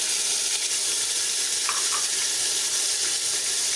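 Tomatoes and green chilies dropped in with golden fried onions for kalay chanay masala, a dense continuous sizzle and crackle of frying, loud and close throughout with no voices.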